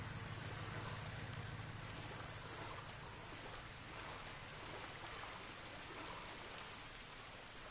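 Steady watery sloshing and splashing as a character wades through water in The Last of Us Part 1, a continuous wash of noise with low rumble beneath, no talk.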